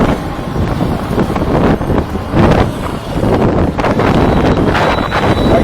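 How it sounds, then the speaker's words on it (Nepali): Wind buffets the microphone in a loud, continuous rumbling roar while riding a bike through the streets of Janakpur, with no voices over it. "बतासिरहेको छ"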